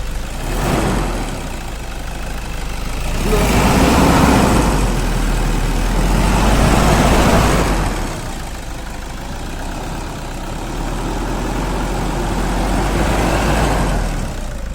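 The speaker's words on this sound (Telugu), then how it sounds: "కావాలంటే ఇంజన్ సౌండ్ కూడా వినిపిస్తాం మీకు" A 2015 Toyota Innova engine idles steadily with a low rumble, rising and falling gently in a few broad swells, close and fairly loud, with no voices; it has a throttle pedal position sensor wiring fault.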